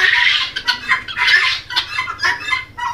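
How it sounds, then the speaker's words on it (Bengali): Jungle chickens cluck in a close, busy chorus of short repeated calls overlapping one another, with no talking. "এইগুলা জঙ্গলের মুরগি"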